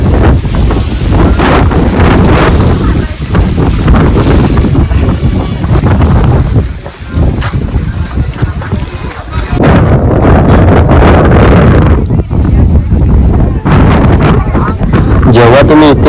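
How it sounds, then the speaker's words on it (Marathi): Strong wind buffets the microphone high on a hilltop fort near a temple at Gaganbawada, giving a loud, continuous roar and rumble that dips briefly midway before surging again, under speech. "खूप उंचावर आहे आणि इथे वारा पण मोठ्या प्रमाणात पडतो."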